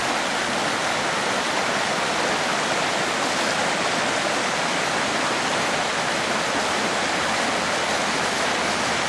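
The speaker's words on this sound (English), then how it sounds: "there's the waterfall right there" Waterfall pouring into a pool at a prospecting site, a constant loud broadband roar of falling water heard close up, unbroken for about nine seconds with no voices.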